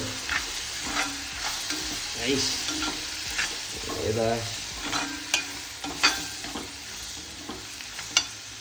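Masala is stirred into onions with oysters in a frying pan: a soft sizzle under repeated scraping and clinking of a spoon against metal, irregular and close.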